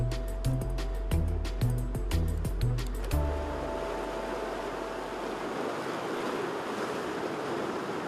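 Strong ocean waves surge and roll in along a rocky Galápagos shoreline, a broad continuous roar of surf with wind. It starts faint behind a rhythmic musical pulse, then rises to fill the scene alone.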